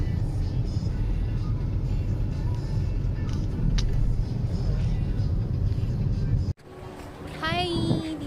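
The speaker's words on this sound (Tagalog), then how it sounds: "Sa Cebu City, sobrang traffic." Steady heavy road traffic in Cebu City, a dense continuous rumble of cars and engines that cuts off abruptly near the end, followed by quieter ambience with faint chirping.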